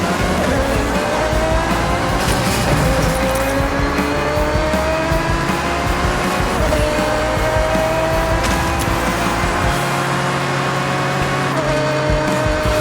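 A race car in the Forza Horizon 6 video game roars loudly and steadily at high speed, its engine note climbing and falling through gear changes as tires squeal throughout.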